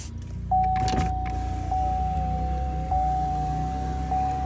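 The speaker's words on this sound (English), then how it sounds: "Let me just open the window." A pickup truck's power window whirs steadily as it lowers, a motor hum lasting several seconds over low engine rumble, with a few faint clicks.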